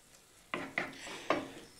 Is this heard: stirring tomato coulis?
yes